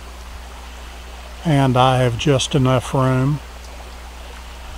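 A steady rush of creek water runs past a campsite at Glade Creek, a constant soft hiss heard throughout while someone speaks briefly over it.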